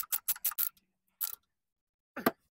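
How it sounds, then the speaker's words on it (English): Ratchet tightening motor mount nuts on a Toyota Camry: a quick run of four sharp clicking bursts, a lone burst after a pause, then one final burst, close and fairly quiet with silence between. "So now we're gonna just tighten this motor mount."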